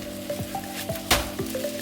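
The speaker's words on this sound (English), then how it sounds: "I think my omelette has finished cooking on one side, so I'm going to try and flip it over" An omelette sizzles softly in a frying pan as it is flipped over, with a few light clinks and a brief scrape against the pan.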